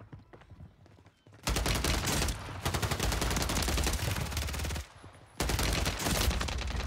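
Automatic rifle fire in Warzone 3, with the STB 556 assault rifle in play, sounds as long, dense, continuous bursts, loud and close, broken by a brief gap near five seconds before firing resumes.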